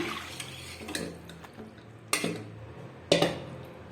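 Soaked vermicelli drained in a home kitchen: soft trickling and sloshing water with a few sharp metallic clanks of a pot or strainer, close and moderately quiet.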